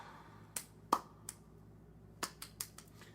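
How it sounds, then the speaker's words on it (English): Sparse slow hand claps, about six or seven sharp light claps at uneven intervals, quiet and close with no talking between them. "Little slow golf clap."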